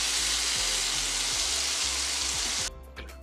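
Capsicum sautéing with salt in a pan gives a steady, close hiss of frying, with faint stirring knocks underneath, before the sizzle drops away near the end.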